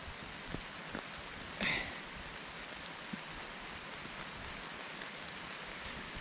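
Light rain during a hike patters steadily as a soft, even hiss, with a brief closer tap or rustle early on; faint and continuous with no voices.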